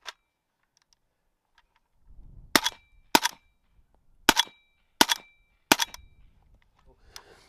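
Five evenly paced gunshots from a 300 Blackout rifle firing 220 grain subsonic ammunition, each a crisp, fairly loud crack about half a second to a second apart, preceded by faint handling noise and no talking.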